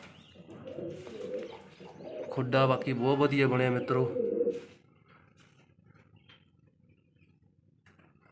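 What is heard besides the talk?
pigeons cooing in loft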